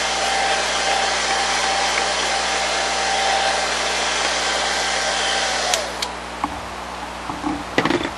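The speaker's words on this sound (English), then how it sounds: "Hair dryer is a great way to speed up the process." A hair dryer runs steadily, drying glue on a homemade foam puppet head, a loud continuous whirring blow that holds for several seconds before cutting off, leaving a few small clicks and handling noises.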